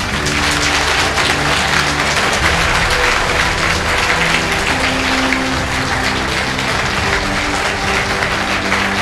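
Steady, loud applause fills a college hall at Mahendra Junior College, a dense unbroken clatter of many hands clapping from start to finish, with no voices above it.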